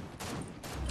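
Rapid bursts of video game gunfire in a battle royale shooter, two dense volleys of shots crackling close and loud with a low rumble toward the end, no talk over them.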